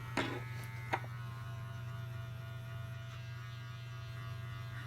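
An AcneFree Sonic cleansing brush runs against the face with a steady low electric buzz and hum, continuous and fairly quiet, with a couple of brief clicks near the start and no talking.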